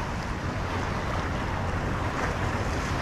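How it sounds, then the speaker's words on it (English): Ocean waves wash against jetty rocks at Port Canaveral, a steady, dense roar of surf mixed with wind buffeting the microphone, loud and continuous with no talking. "I'm watching the waves as well."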